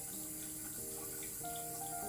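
Water runs steadily from a bathroom tap into a sink during face washing, a continuous close splashing hiss with no pauses.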